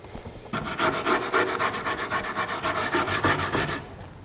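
A cloth scrubs dirt off an old wooden chair in steady, rapid back-and-forth strokes, close and fairly loud, a raspy rubbing rhythm that runs for several seconds after a short quiet start.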